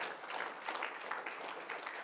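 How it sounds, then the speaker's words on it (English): A church congregation gives a round of hand clapping in praise, a steady, soft wash of many hands sustained throughout at a distance. "Go ahead and give him a, a hand clap of praise."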